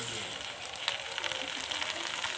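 Duck meat added to nearly fried onions sizzles steadily in a pan, a soft, continuous crackle with small pops throughout.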